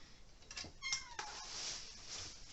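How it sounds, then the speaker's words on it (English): A house cat meows a few times in the background, faint and drawn out, with soft handling noises around it. "If you can hear anything in the background, it's one of my cats."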